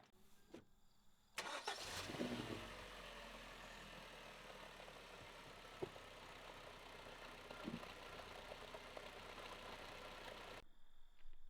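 A 2010 Kia Forte engine cranks briefly and catches, then settles into a steady close idle with a few faint clicks, no voices.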